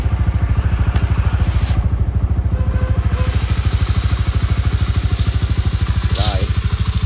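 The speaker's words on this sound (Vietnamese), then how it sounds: "Để mình coi, nổ máy lên cái đã nha." A 2019 Honda Winner X motorcycle engine idles close by, a loud, steady, fast-pulsing thrum that holds evenly throughout while someone speaks over it.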